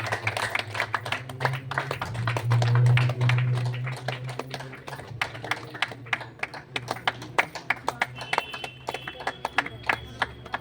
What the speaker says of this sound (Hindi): सभी से अनुरोध है कि जोरदार तालियों से अभिनंदन करें